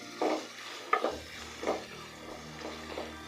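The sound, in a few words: frying red and green capsicum for chilli chicken on high heat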